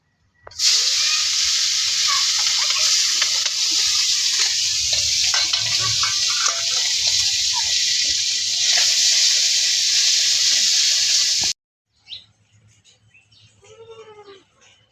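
A loud, steady sizzle of fish frying in hot oil for about eleven seconds, then it cuts off and quieter kitchen sounds follow.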